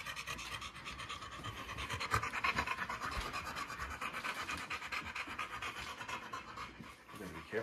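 Dogs pant rapidly and steadily up close, a continuous rhythmic huffing with no talking.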